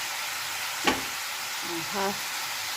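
Meat browns in a hot pan, producing a continuous close sizzle, with a couple of brief vocal sounds over it.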